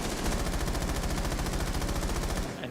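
Rapid automatic gunfire from a Rainbow Six Siege match, a continuous magazine dump of evenly spaced, loud shots in a fast unbroken rhythm that stops abruptly just before the end.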